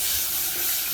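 Beans simmer and sizzle in a pot on a home stove, a soft steady hiss with a brief louder clink or stir right at the end.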